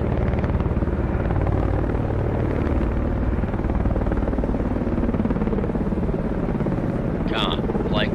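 A naval helicopter lifts off from a Russian Udaloy destroyer in the submarine game Cold Waters, giving a steady rotor drone throughout that sits low under the ship's ambient noise, with a short radio voice near the end.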